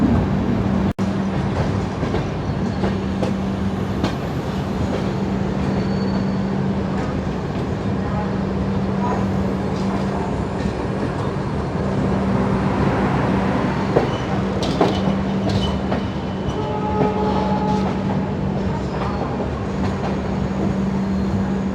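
A Shalimar to Puri passenger train running at night, heard from on board as a steady, loud rumble and rattling clatter that continues without a break, with a constant low hum underneath.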